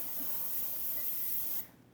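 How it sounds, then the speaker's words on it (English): Cooking spray hisses steadily onto a round baking pan for about a second and a half, then cuts off abruptly, close and alone. "you're going to take a round pan like this, or whatever pan you want, and you're going to spray it really well"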